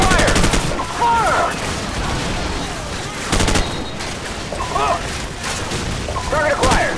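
Call of Duty 4 battle audio, with repeated booming cannon blasts and bursts of automatic gunfire recurring every couple of seconds, while voices shout over the chaotic din.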